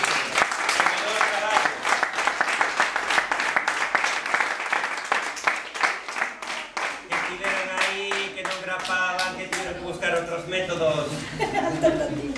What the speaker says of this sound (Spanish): aplauso también para las mozas que estuvieron ahí